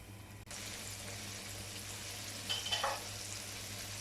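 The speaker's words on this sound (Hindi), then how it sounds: "अब इसमें ऐसे ऐसा चिकन पीसेस डालते हैं।" Chicken pieces drop into hot oil over lowered heat and fry with a steady, close sizzle that swells briefly as more pieces go in, with no voices.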